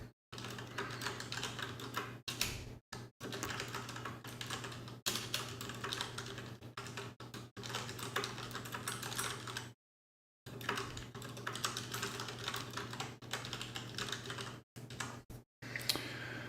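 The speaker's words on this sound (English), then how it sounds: "I'm just going to type it out." Steady typing on a computer keyboard, close and continuous clicking in bursts with a few short pauses and one longer gap, no voices.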